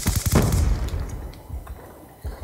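Rapid gunfire from a first-person shooter match in Black Ops 2, a loud burst of shots up front followed by scattered fainter shots and impacts, with no talking.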